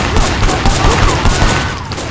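Gunfire in the video game Sleeping Dogs: loud, dense rapid shots that run continuously through the moment and fill the whole sound, with no one talking.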